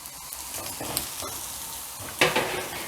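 Kashmiri chilli powder, garam masala and turmeric are stirred into a hot frying pan, giving a soft continuous sizzle broken by the scrape and clink of the spoon, with a sharper burst near the end.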